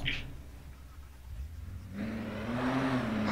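A Ferrari sports car in the video game Arma 3 revs its engine, a steady low rumble that swells into a louder, rising whine partway through and holds close and strong to the end.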